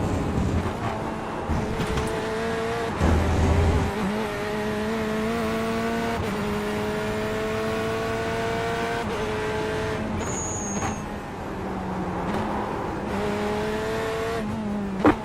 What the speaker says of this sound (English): as I lock up the tires